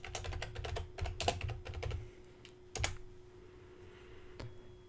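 Close, quiet typing on a computer keyboard, a quick run of key clicks followed by a few isolated taps, with no voice over it.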